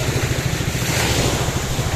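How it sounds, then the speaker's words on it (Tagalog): Strong coastal wind buffets the microphone over rolling sea waves on a beach, a steady loud roar with low gusty rumble and no speech. "Kusog ang hangin."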